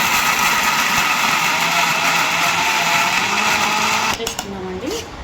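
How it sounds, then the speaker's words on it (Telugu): A mixer grinder whirs loudly and steadily, grinding fried peanuts with salt for a spicy gongura-style leaf chutney, then stops abruptly near the end, leaving a brief fading hum. "ఇప్పుడైతే ఇందులో వేసేసుకుని మిక్సీ పట్టేసుకున్నామండి"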